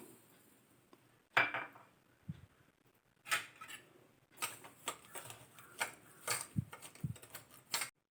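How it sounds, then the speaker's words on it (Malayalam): Banana and sugar mixed in a glass, with quiet irregular clinks and scraping taps of a spoon against glass, growing busier toward the end, close but faint. "പഴം നന്നായിട്ടൊന്ന് മിക്സ് ചെയ്ത് കൊടുക്കാം"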